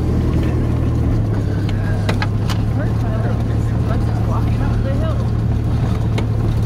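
An old truck grinds up a big hill with a steady low engine drone and rumble throughout, a close cabin sound with people talking over it.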